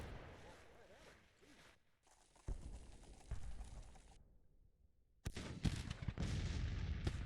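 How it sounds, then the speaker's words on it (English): Artillery booms in a Civil War battle strategy game roll out as repeated heavy thuds and crackling volleys, with a brief near-silent gap before a loud renewed barrage. "A lot of artillery not doing very much"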